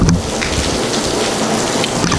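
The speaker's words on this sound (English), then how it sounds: "it's raining out here" Steady outdoor rain pours loudly and continuously, a dense even hiss of drops striking surfaces with no voices over it.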